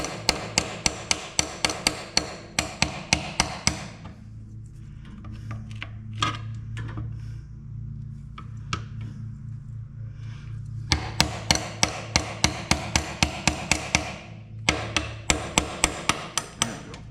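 Rapid, sharp hammer strikes on metal ring out in steady bursts while fixing an MM ZTU tractor with an oil pressure fault, pausing for several seconds of quieter scraping and taps before the pounding resumes.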